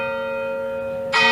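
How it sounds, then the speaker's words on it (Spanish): Bells of a Catholic church ring with a sustained, humming metallic tone, and a brighter, louder strike comes in near the end. "Miren la iglesia católica. Que son las campanas."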